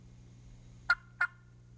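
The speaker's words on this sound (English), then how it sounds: "Here's some more examples of just clucking, both by callers and hens." Two short, sharp wild turkey clucks about a third of a second apart, crisp and fairly close, over a low steady background hum.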